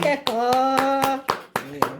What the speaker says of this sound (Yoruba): Ẹ pàtẹ́wọ́ fún